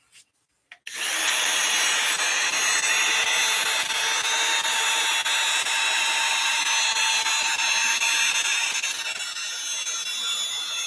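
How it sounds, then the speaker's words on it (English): A small hair dryer's electric motor whirs steadily with a high airy hiss, starting after a couple of faint clicks and running continuously up close. "World's smallest hair dryer."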